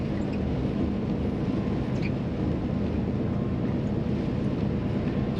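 Wind roars steadily past a truck on the road, a dense, continuous rush that buffets the microphone throughout without a pause.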